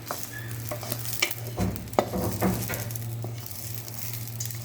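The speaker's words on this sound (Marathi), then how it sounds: "हे बघा कढीपत्ता कुरकुरीत झालाय, आवाज यायला लागलाय." Crisp curry leaves for kadipatta chutney rustle and crackle as they're stirred in a hot pan, with scraping and light sizzling throughout.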